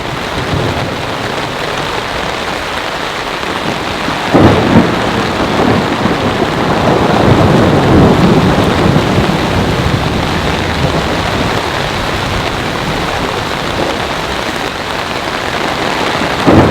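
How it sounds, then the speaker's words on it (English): Heavy rain pounds steadily on a campsite tarp during an intense storm, with a deep rumble of thunder swelling partway through. The downpour stays loud and close from start to finish, with no voices. "It's also raining really, really hard."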